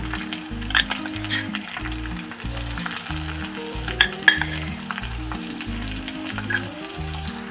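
Green chilies, curry leaves and crushed garlic frying in oil in a kadhai, a constant close sizzle with occasional stirring scrapes, under a steady low hum and no talk.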